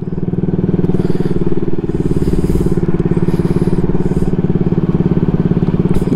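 A Honda Ruckus scooter's small engine runs steadily and loudly throughout a ride on a mild January day, with a continuous buzzing drone heard up close.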